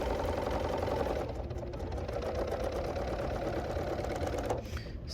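A serger stitching a quilt seam runs in a steady, smooth mechanical whir at an even pace throughout, fairly quiet and close, with no talking.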